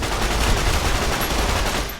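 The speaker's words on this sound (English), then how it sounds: "We have a little 9mm submachine gun." A 9mm submachine gun fires in rapid continuous automatic fire in Fallout: New Vegas, a dense, loud, close burst lasting about two seconds with no talk.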